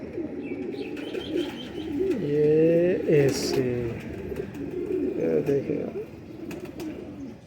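Golden pigeons coo and warble in repeated low, throaty phrases, fairly close, with someone talking briefly over them.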